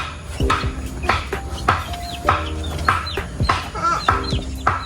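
Chickens cluck repeatedly and busily nearby, a steady chorus of short clucks and calls with no talking.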